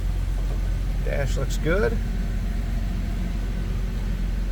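A 2000 Jeep Wrangler 4x4 idles steadily after a cold start, a constant low engine rumble close by with someone speaking briefly over it.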